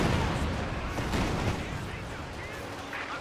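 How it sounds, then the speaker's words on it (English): Heavy rocket fire in the real-time strategy game Company of Heroes 2, from a Soviet mechanized corps in a 1v1 match, comes as dense overlapping booms and bursts of battle noise, loud and continuous, with voices mixed in. "Heavy rocket fire there from Desmond and the 3rd Mechanized Corps."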